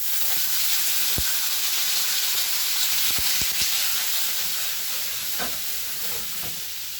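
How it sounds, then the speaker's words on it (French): Carrots land in hot olive oil in a pan and fry with a steady, bright sizzle. A few soft stirring knocks sound close by throughout, and no one speaks. "Je mets un peu d'huile d'olive aussi. Je lance les carottes dans celle-là."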